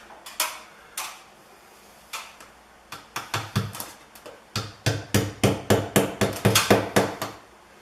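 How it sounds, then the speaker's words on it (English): Crown moulding is pinned in place while its glued seam dries: sharp close taps, a few spaced ones at first, then a fast, even run of strikes. "you gotta make sure I get a pin in there or something to hold it while the glue's drying right here"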